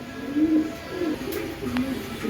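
Soft, low coos from a pair of Mili pigeons repeat in a slow rhythm, close by, with a faint background hum and no talking.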